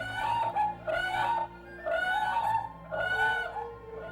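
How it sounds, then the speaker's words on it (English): Whooping cranes giving their shrill trumpeting calls at a Texas wildlife refuge, four loud bugling bursts of about a second each repeating in steady rhythm, close and clear. "Whooping cranes get their name from their shrill trumpeting call, which can be heard for nearly 2 miles."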